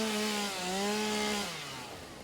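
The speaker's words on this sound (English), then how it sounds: "Bust out the chainsaw here." A chainsaw in the Satisfactory video game cuts into wood with a sustained, buzzing motor whine that dips in pitch mid-cut and then tapers off, heard alone and fairly close.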